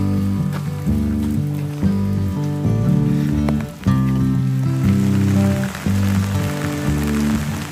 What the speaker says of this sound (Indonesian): Hujannya mulai besar bro, dan kabut mulai tebal ya.